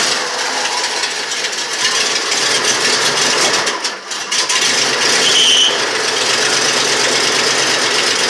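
A custom Tandem van engine fitted with headers runs steadily with an exhaust leak and loose belts, a loud, continuous near rumble and hiss with a brief dip midway, no talk over it.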